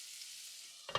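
Kerala-style mussels, finished with crushed garlic and curry leaves, fry in a covered pan with a soft, steady hiss, then a brief louder clatter near the end.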